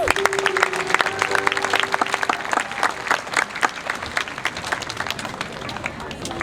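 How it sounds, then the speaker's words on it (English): A school assembly audience claps for upper school students in a busy, fairly close round of applause with sharp individual claps, continuing steadily throughout, with a brief tone or voice briefly heard near the start. "Let's give them another round of applause."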